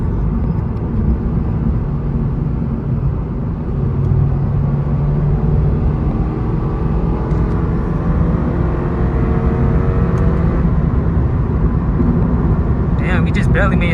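A Toyota GR86 accelerates hard from inside the cabin, a steady, loud engine drone and road rumble that builds gradually, with a voice speaking over it at times.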